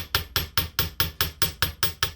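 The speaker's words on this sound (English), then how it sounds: "we're going to flatten these curved ends with a chasing hammer" A chasing hammer flattening the curved ends of wire in a wire-wrap jewelry project, nine sharp, evenly spaced metallic taps in a steady rhythm, close and loud with no talk.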